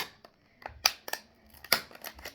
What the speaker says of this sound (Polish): Cięcie potrzebuje nożyczek